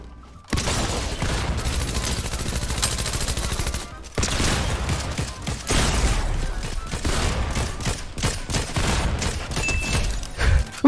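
Automatic weapon fire in the video game Fortnite, loud bursts of rapid shots in several long volleys separated by brief gaps, with no talk over them.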